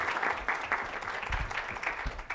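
A room at a county board of supervisors meeting breaks into sustained applause, dense overlapping clapping with a few louder bursts, steady and fairly close for the whole stretch.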